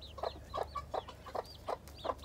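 Hens feeding together on a farm, with a new chick nearby, give a steady run of soft, rhythmic clucks about every third of a second, with occasional higher calls over a low background hum.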